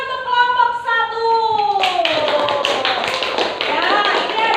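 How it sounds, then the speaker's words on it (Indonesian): A classroom of students applauds a winning group, a voice first and then a dense burst of close, rapid hand clapping that keeps going to the end. "Kita beri tepuk tangan untuk kelompok 1."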